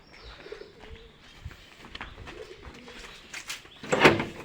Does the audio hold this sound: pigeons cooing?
yes